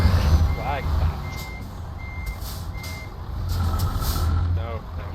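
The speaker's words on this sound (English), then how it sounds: "What I normally do in games when I'm reversing things like this is just floor the throttle" A truck reversing in Euro Truck Simulator 2, steady reversing beeps repeating at even intervals over a low idling engine rumble, with someone talking over the top.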